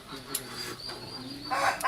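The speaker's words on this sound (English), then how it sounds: "I love the chickens are like screaming at us." Chickens squawk and cluck at a food stop in Belize, a few harsh calls rising over a busy background, with one sharper burst near the end.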